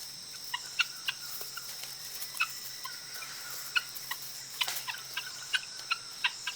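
A flock of guinea fowl calls in a forest, with scattered short, sharp clucks and chatters rising over a soft bed of insect buzz, moderately distant and irregular.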